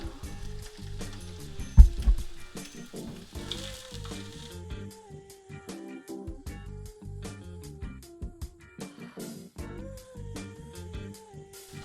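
Eggs with runny yolks and two slices of American cheese fry in a pan, giving a steady sizzle that runs through the whole stretch beneath prominent background music, with no voices.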